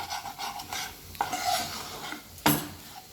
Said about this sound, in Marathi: भुर्जी नेहमी हलवतच राहायची